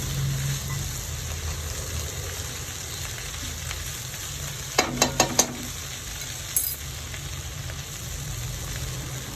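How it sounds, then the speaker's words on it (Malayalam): A fork stirs dal in a cooking pot, making a soft, steady sizzling bubble throughout, with a quick cluster of light metallic clinks near the middle and one more faint clink after. "ഫോർക്ക് വെച്ച് പതുക്കെ ഒന്ന് ഇളക്കി കൊടുക്കാം"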